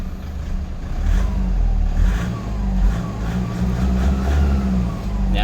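A commuter van engine fitted with a Dinobox electric throttle controller revs steadily with a loud, close, low rumble that swells and eases slightly.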